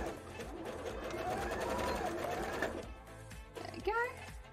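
A sewing machine zigzag stitching on mesh fabric, a rapid rhythmic stitching run under someone talking, close by.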